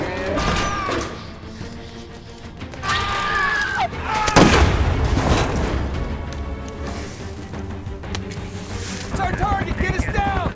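Sharp gunshot bangs burst out amid a tense zombie film soundtrack, one loud crack standing out mid-scene, with rumbling effects and brief voices around it.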